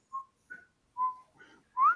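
A person whistles five short melodic notes, spaced by brief silences, clear and close with no other sound.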